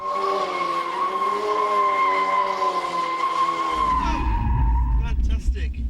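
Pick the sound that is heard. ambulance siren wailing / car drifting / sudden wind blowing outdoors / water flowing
car drifting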